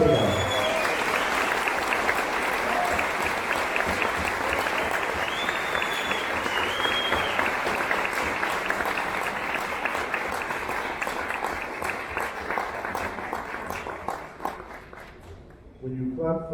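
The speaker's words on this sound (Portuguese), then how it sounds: "When you clap for me, you clap for all the people that work on these projects." An audience claps after a talk at a conference, loud sustained applause from a large crowd that slowly thins and fades toward the end, where faint voices come through.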